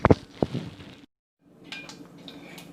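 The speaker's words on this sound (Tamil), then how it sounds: "கடுகு வெடிக்க ஆரம்பிச்சிருச்சு." Mustard seeds crackle and pop in hot oil for Chettinad kara chutney, with a few sharp close pops at first, a brief hush, then a steadier, lighter sputter and sizzle.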